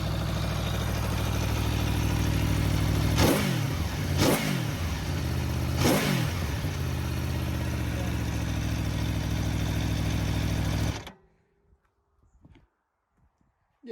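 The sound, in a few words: sport touring motorcycle engine revving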